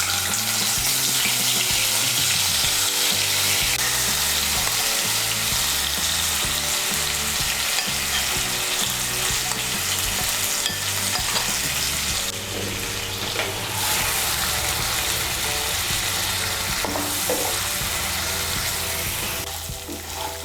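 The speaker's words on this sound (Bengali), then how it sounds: "এই তেলের মধ্যে আমি পনিরের টুকরোগুলো ভেজে নেব" Paneer pieces frying in hot oil for paneer fried rice, a loud, constant crackling sizzle with occasional stirring scrapes and clatters, running steadily with a brief dip partway through.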